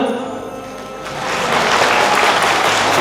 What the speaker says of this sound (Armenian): խնդրում եմ մի հատ բարձր գեղեցիկ ծափեր տանք մեր զույգի համար